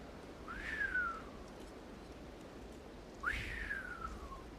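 A voice whistles twice to imitate wind blowing between someone's ears, each time a short rising-then-falling tone, with a pause between them over a quiet background.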